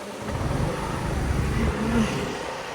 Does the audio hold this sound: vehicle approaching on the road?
yes